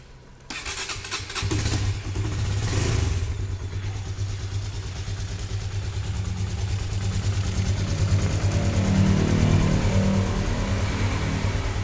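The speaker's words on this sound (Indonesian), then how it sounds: "Sampean pengen ngrungokne suara mesinnya, ya mari tak urupi iki rungokno suara mesinnya sing tenanan ya" A 2015 Honda CB150R motorcycle starts up and settles into a steady, close engine idle with a mild rise in revs toward the end, running continuously without talk.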